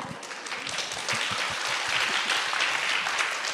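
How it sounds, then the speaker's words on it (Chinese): An evening audience breaks into sustained applause, many hands clapping densely and steadily, swelling slightly and holding at full strength for several seconds. "各位的掌声是在承诺哦"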